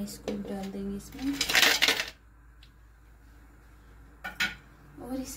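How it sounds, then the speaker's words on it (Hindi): Ice cubes clatter and clink into a bowl of yogurt in a home kitchen, in a burst of hard knocks followed by a few more scattered clinks, with someone speaking around them. "ये आइस क्यूब डाल देंगे इसमें,"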